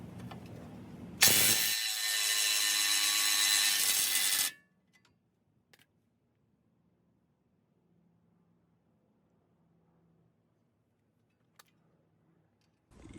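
A power tool whirs loudly for about three seconds while loosening a tie rod bolt on a wrecked BMW F30, then cuts off abruptly into near silence broken by a few faint clicks.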